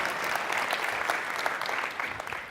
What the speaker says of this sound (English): You all should applaud him for leading the way.